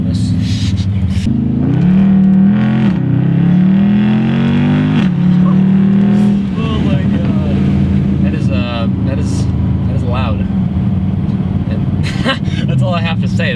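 A straight-piped Mercedes C63 AMG roars loudly and close, its exhaust revving up and holding a rising drone before settling into a steady rumble, with voices talking over it.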